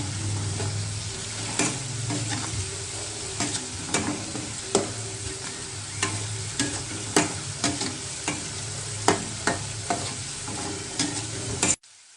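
Corn kernels frying in oil in a wok until golden brown, a steady sizzle punctuated by regular popping and spattering bursts, close and continuous, ending abruptly.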